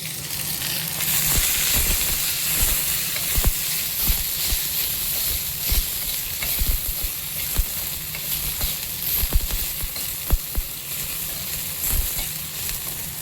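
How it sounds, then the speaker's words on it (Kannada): Byadgi chillies fry in a couple of teaspoons of oil in a pan, giving a loud, continuous sizzle and hiss close up, broken by sharp spattering crackles and occasional stirring scrapes. "ಒಂದು ಬಾಣಲೆ ಇಟ್ಕೊಂಡು ಒಂದು ಎರಡರಿಂದ ಮೂರು ಟೀ ಸ್ಪೂನಷ್ಟು ಎಣ್ಣೆ ಹಾಕ್ಕೊಂಡು ಸ್ವಲ್ಪ ಬ್ಯಾಡಿಗೆ ಮೆಣಸಿನ್ಕಾಯಿ ಒಂದು ಮೆಣಸಿನ್ಕಾಯಿ ಹಾಕ್ಕೊಂಡು ಸ್ವಲ್ಪ ಫ್ರೈ ಮಾಡ್ಕೊಬೇಕು"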